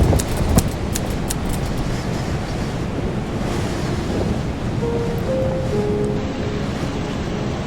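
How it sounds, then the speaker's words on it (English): Gentle ocean waves wash onto a Mauritius shore after a storm, a steady broad surf hiss with wind buffeting the microphone, close and continuous, with a few faint tonal chirps near the end and no talk. "And now the same waves move gently, as if soothing the scars they left behind."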